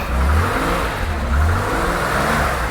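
A 1968 Porsche 911's air-cooled flat engine revving hard in two loud, close surges, each rising and falling within a steady mechanical roar, with no voices over it.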